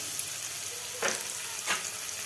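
Onion paste hits hot oil in a pan with a bay leaf and fries with a soft, steady sizzle, broken by two brief louder bursts as it is stirred.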